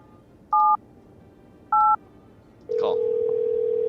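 Video game phone call: two short DTMF keypad beeps about a second apart, then a steady dial tone cuts in and holds, loud and clean with no talk.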